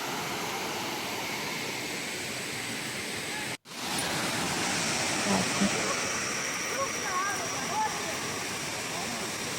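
A waterfall pours steadily in a constant broadband roar, close and loud throughout, with one brief dropout partway and faint voices in the background.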